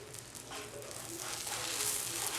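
A chapati with egg, just flipped, fries in a pan with a faint, even sizzle that builds slightly toward the end.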